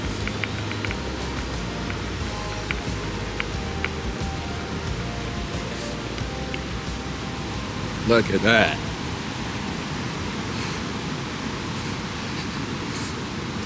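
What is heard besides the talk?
water rushing over a waterfall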